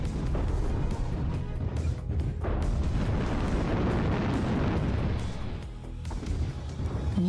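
Plasma cannons firing on a Kit Fox mech in MechWarrior, heavy rumbling blasts and crackling bursts that keep up loud and almost continuous, dipping briefly before surging again.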